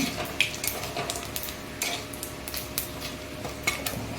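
Black and white cumin seeds fry lightly in a pan for a taro leaf and hilsa head curry. Close, busy spatula scraping and clinks sit over a low, continuous sizzle, with no voices.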